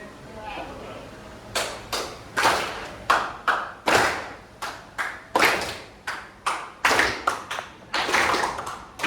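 A classroom of students claps together in a series of sharp, evenly spaced bursts, mostly in quick pairs, loud and close in a reverberant room.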